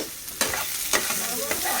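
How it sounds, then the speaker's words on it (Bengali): Onions fry in a pan with a continuous close sizzle, while three distinct spoon scrapes land at roughly half-second intervals. "পেঁয়াজ ভাজছি, এই দেখো"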